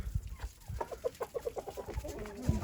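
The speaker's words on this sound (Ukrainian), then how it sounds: "Як завжди, кури їдять сніг" Chickens cluck in a steady rhythmic series of short notes, fairly quiet and close, with faint outdoor background and no talking, while out on snow eating snow.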